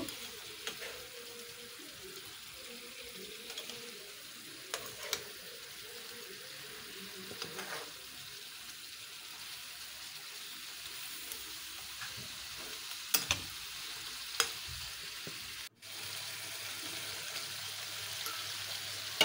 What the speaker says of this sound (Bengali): এখন সেই ভাজা মাছগুলো দিয়ে মশলার ভিতরে কষিয়ে নেব।